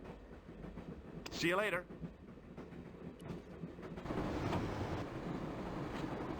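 A moving train rumbles with steady rail noise in the Broken Sword video game, a character voice speaking briefly over it before the clatter swells louder.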